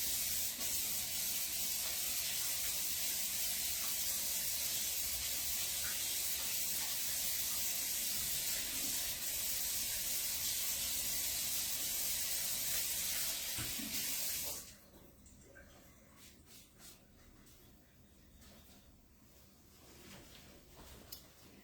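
Running water from a sink tap pours steadily over an item being rubbed and washed for about fifteen seconds, then shuts off, leaving quiet room tone with faint handling noises.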